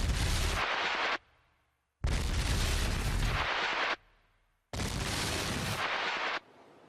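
Gunpowder explosions set off in a reconstruction test: three huge, loud blasts, each a sustained roaring burst of about a second and a half followed by a fading rumble, separated by short gaps.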